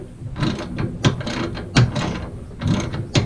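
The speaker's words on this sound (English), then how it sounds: "So I just got the nut off of the top of there." Ratchet wrench clicking off the nut on the bolt that joins the cutter bar to the wobble box of a New Holland 467 haybine, with several bursts of close, sharp ratcheting clicks separated by brief pauses.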